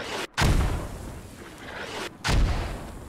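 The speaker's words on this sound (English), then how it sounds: "Mortars are coming in." Incoming US mortar rounds land in a video game firefight, two heavy booming impacts about two seconds apart, loud and near over a rumbling battle background.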